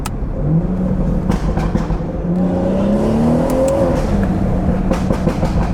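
A stage 2 BMW 440i pulls hard in second gear, its engine note climbing steadily in pitch over several seconds with a brief dip at a shift or lift, loud and continuous from the cabin on a backroad drive.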